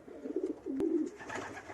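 Pigeons cooing in a loft, a close, soft burst of low throaty coos lasting under two seconds against quiet room noise.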